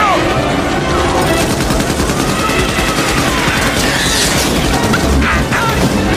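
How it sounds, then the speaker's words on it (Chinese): Soldiers fire relentlessly at an insect swarm in a sci-fi movie battle, with dense, continuous automatic gunfire and booms forming a loud wall of sound under a narrator's voice. "士兵们疯狂地倾泻子弹"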